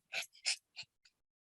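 A small dog breathes heavily during a thunderstorm: four or five short, breathy huffs in quick succession, close and fairly quiet, with no other sound around them.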